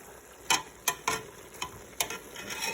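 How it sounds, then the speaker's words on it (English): Green leaves fry in a pot with a steady soft sizzle, broken by several sharp, separate clicks and crackles spaced about half a second apart. "we're gonna keep frying until it gets to the texture that we want"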